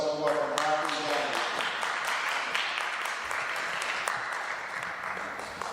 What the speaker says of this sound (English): keep the applause going until the speaker